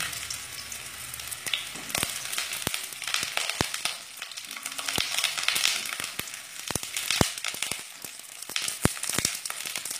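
Eggplant pieces fry in about a tablespoon of oil in a home kitchen pan while a gravy with bottle gourd leaves is being made, giving a steady close sizzle broken by sharp crackles and pops throughout.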